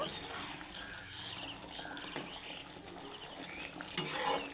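Garam masala powder being stirred into a pabda fish poppy-seed curry, with soft scraping and clinking of a spoon in the pan, close and moderate under light background noise and a brief louder clatter at the end.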